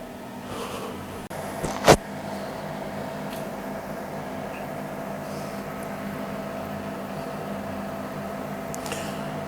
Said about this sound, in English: So I'm going to turn on the extractor fan.